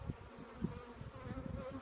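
Honey bees buzz around an open hive in natural beekeeping, a dense close hum with individual bees darting past the microphone in short louder swells, no voices.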